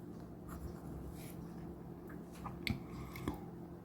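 Lemon M6 fountain pen with an EF steel nib and blue ink writing on paper, a faint continuous scratchy scribble with a few slightly sharper strokes, close and quiet with no talk.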